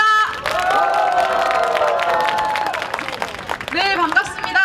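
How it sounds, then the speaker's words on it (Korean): Crowd at an outdoor cultural rally for the housing rights of jjokbang (tiny-room) residents bursts into steady applause mixed with loud cheering and whoops, sustained for several seconds, with voices calling out near the end. "박수와 함성 부탁드립니다."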